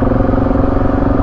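A dual sport motorcycle engine runs with a steady, close, loud drone and a slight rhythmic pulse. It holds one level with no clear rev peaks.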